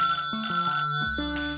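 A phone ringtone announcing an incoming call plays as a loud, stepped melody of electronic tones, rising and falling in short notes with no talking over it.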